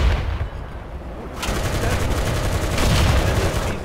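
Tank gunfire in War Thunder, a sudden loud blast that opens into sustained rumbling fire and booms, close and heavy, continuing steadily to the end.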